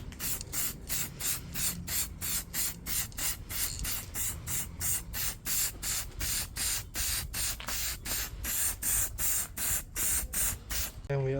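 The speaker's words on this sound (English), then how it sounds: "we're also spraying this water pump and tensioner" Spray paint applied to a BMW E30 325i gearbox in rapid, regular hissing bursts, each short spray followed by a brief pause, close and fairly soft, repeating steadily with no talk.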